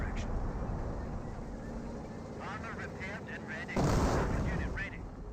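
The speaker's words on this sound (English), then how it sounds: "It is a strength of artillery doctrine to sit back and lob high explosive at your opponent." Artillery in Company of Heroes lobbing high-explosive shells: a steady din of distant firing and rumble runs beneath a talking commentator, and a heavier explosive boom lands near the end.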